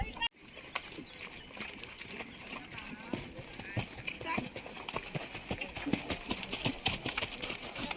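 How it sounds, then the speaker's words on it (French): Horse hooves cantering on the left lead after passing a puddle in a riding session, with steady rhythmic clip-clop footfalls running throughout, partly under an instructor's nearby speech. "Après la flaque, départ au galop à gauche."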